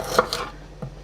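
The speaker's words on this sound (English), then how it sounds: "I'm gonna go ahead and cut up my red onion." A knife cuts a red onion on a cutting board, giving a few quick, close chops and a soft scraping stroke in just over a second, with no talking.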